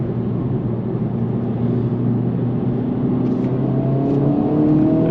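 A 2024 Acura Integra Type S accelerates hard on a racetrack, its engine note a loud in-cabin drone that climbs steadily in pitch through the revs, with no talking over it.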